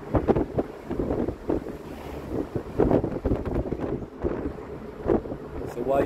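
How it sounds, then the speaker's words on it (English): Breeze buffets through rolled-down car windows while driving in East Legon, Ghana, a gusty, uneven rushing roar close to the microphone, with a voice talking over it. "we got the windows rolled down so we can get some nice breeze"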